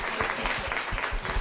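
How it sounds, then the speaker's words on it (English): Applause from the audience at an education theatre panel discussion, a steady patter of many hands clapping throughout, close and fairly loud. "So please round of applause."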